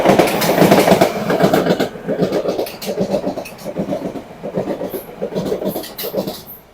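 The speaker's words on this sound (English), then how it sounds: "this Metline train is going fast past here" A London Underground Metropolitan line train rushes past close by at Wembley Park, with rhythmic clickety-clack of wheels over rail joints repeating steadily as the carriages go by.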